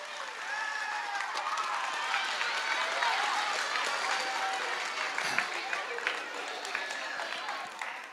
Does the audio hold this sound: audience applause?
yes